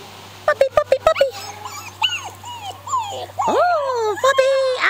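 A puppy whimpers and yips in high, wavering cries after a quick run of sharp clicks or taps, close and fairly loud, with a person talking intermittently over the sounds.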